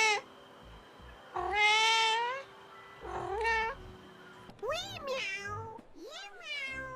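A domestic cat meows several times, drawn-out and rising-falling calls with some chirpy, caterwauling tones, fairly close and clear with quiet gaps between them.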